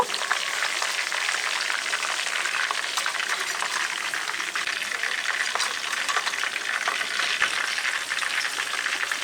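Chicken pieces fry KFC style in hot oil, a steady dense sizzle and bubbling running continuously and close for several seconds with no talk.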